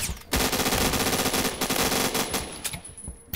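A Remington rifle in Roblox Phantom Forces fires in a loud, dense burst of gunfire, with sharp cracks trailing into a fading echo.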